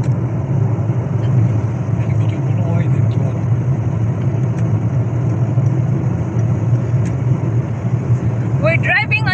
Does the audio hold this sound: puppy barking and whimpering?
no